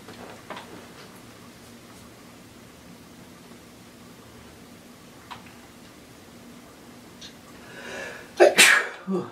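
A single loud sneeze near the end, close by, after several seconds of quiet background hiss with a few faint ticks, inside Rogers Mansion.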